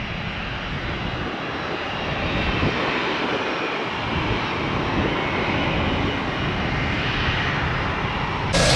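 A Delta MD-88 jet aircraft takes off with a loud, steady roar of engine thrust that fills the whole stretch, swelling slightly toward the end.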